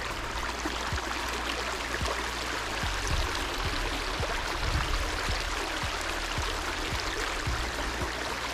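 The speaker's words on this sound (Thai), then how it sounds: "ฟังเสียงน้ำไหลนะครับ" Steady rushing of water flowing in a stream, continuous and fairly loud, with small splashes and trickles throughout and no voices.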